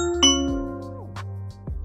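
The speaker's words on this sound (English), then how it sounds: "Let's test the doorbell out to see if it's worked with the Echo." A Ring doorbell chime plays on an Echo smart speaker, a bright two-tone electronic chime ringing out clearly, followed by softer synthesized tones, close and fairly quiet with no talking.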